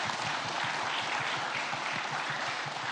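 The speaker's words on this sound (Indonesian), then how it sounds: "Mari kita tepuk tangan sekali lagi." A large crowd at an event during the Pope's visit to Indonesia claps continuously in a loud, steady wash of applause, with rhythmic low thumps pulsing beneath it throughout.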